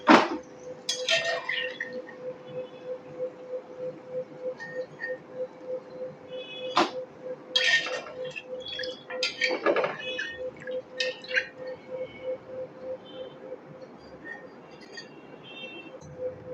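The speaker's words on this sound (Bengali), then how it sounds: "এখন আমি নিমকিগুলোকে কিন্তু তুলে নেব ভালো করে তেল থেকে ছেঁকে ছেঁকে তুলে নিতে হবে" Fried Bengali nimki are lifted out of hot oil with a metal strainer, giving repeated close metallic clinks and scrapes against the pan over a steady low hum.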